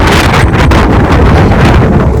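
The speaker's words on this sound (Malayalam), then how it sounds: "വൃത്തികെട്ട കാറ്റ്" Strong wind batters the microphone outdoors, a loud, continuous roaring buffet with gusting swells and rumble, no voices present.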